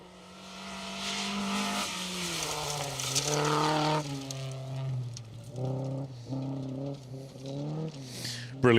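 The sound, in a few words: Volvo 244 rally car driving a forest stage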